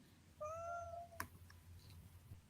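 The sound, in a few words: cat meowing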